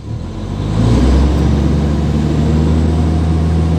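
A dump truck engine revs up from idle, rising over the first second into a loud, steady, low rumble that holds close by, with no talking.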